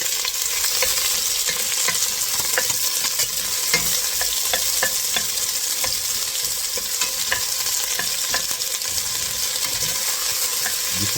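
Onions sizzle and fry in a pan for salmon-head sinigang, a dense, continuous crackle with faint scraping, close and steady, with no voices over it.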